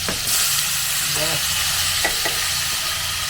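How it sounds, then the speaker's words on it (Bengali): Potatoes for biryani sizzle and crackle in hot oil, close and loud, with a few brief scraping stirs of a spoon against the pan and steady frying underneath. "মানে বিরিয়ানির আলু ভাজা"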